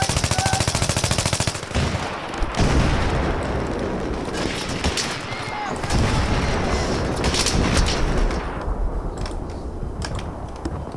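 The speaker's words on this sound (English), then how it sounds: "Grenade out!" Loud, dense video-game gunfire with rapid automatic bursts and heavy booms from a grenade explosion, continuing almost without pause.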